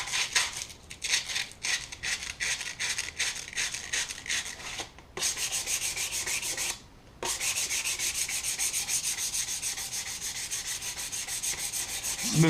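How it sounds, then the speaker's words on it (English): Steady, close scratchy rubbing of sandpaper on a handmade wooden fishing bobber, rhythmic strokes at first, then continuous sanding with a brief pause midway. "take a piece of sandpaper"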